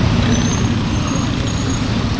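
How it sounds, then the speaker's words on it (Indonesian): Traffic on a jammed road near a tourist area around Ciwidey, Indonesia: a steady, dense roar of idling and creeping cars, buses and trucks that stays constant throughout, with no speech. "jalurnya macet padat."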